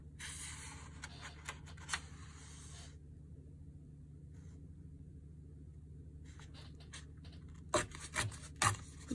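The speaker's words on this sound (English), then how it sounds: "take my tear ruler and tear those quotes out" Paper pages for journal snippets torn out along a tear ruler, soft scraping rips in short bursts near the start and again toward the end, close and quiet with no talking.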